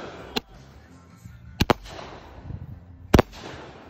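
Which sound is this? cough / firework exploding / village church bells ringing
firework exploding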